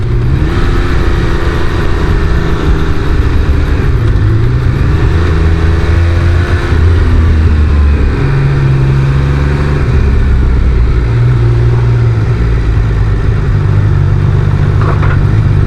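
Triumph Speed Triple 1200 RR motorcycle engine under way on Melbourne streets, a loud continuous drone with shifting pitch as revs rise and fall, wind noise filling the background, no voices.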